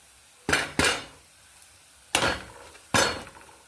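A spoon scrapes and clinks against a pan four times in sharp metallic knocks while onion fried with chili and turmeric powder is stirred, with quiet gaps between strokes.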